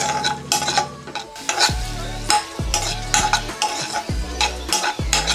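Semolina (rava) being stirred and dry-roasted in a pan over a low flame, with a spoon repeatedly scraping the pan bottom in steady strokes over a soft continuous sizzle, close and alone.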